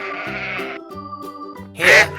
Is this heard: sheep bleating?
yes